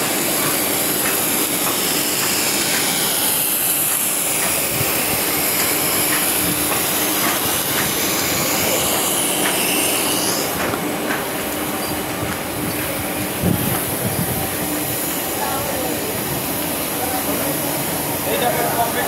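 A textile stenter machine in a fabric finishing mill runs steadily and loudly, with a dense mechanical roar, rushing air and faint metallic squeals throughout, and a worker talks over the din.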